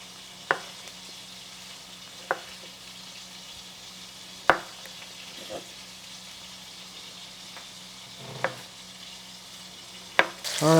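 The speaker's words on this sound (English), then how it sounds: "while our patties are cooking," Kabob patties sizzle steadily in a pan, a soft continuous frying hiss broken by several sharp clinks and knocks at irregular intervals, close and moderate in level, with no talk.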